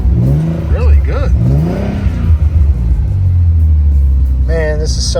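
Revived abandoned Nissan 300ZX engine, cold and with dry lifters, idling with a deep rumble and rising through several revs that swell and fall, close and loud, with a brief voice at the start.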